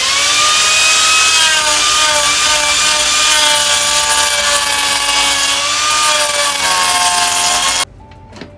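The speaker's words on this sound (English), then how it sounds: "This is another rotating tool." A rotary carving tool grinds and shapes wood in a loud, steady whine that holds for about eight seconds, its pitch drifting slightly as the bit bites, then cuts off abruptly into near silence.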